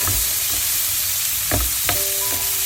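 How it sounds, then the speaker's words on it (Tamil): Chopped ivy gourd hits golden fried onions in a hot pan, giving a steady, close hiss of sizzling oil with a few soft stirring knocks scattered throughout. "இந்த வெட்டி வச்சிருக்கிற கொவ்வங்காயை நம்ம சேர்ப்போம்."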